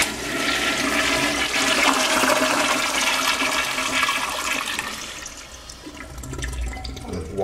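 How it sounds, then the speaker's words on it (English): An old American Standard push-button toilet flushes slowly, a loud, steady rushing of water that lasts several seconds and then tapers into a quieter refill trickle. "it has a push button flush, and the flush is really slow."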